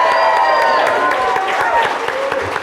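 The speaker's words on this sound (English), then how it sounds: "So if we could give a round of applause." An audience at a live podcast event bursts into dense, sustained clapping that fills the whole stretch, loud and close, with a few faint cheers mixed in.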